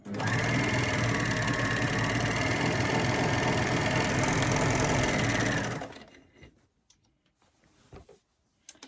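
A sewing machine runs steadily and loudly for about six seconds while stitching the fabric lining of a gift bag, then stops, leaving faint handling clicks and rustles.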